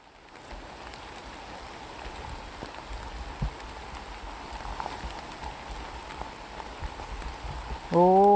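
Steady rain patters on forest ground, a soft continuous hiss with scattered drops, until a voice begins speaking at the very end.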